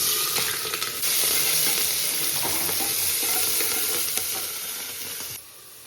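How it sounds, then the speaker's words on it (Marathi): Chopped onion dropped into hot oil for pav bhaji, bursting into a loud, dense, steady sizzle up close that eases off slightly near the end. "तेल आता हे गरम झालेलं आहे त्यात घालूया आपण आता कांदा"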